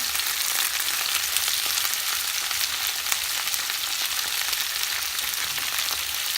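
Zucchini and mushrooms fry steadily in a pan with garlic, a dense, even sizzle that stays close and loud without a break, with no voices over it.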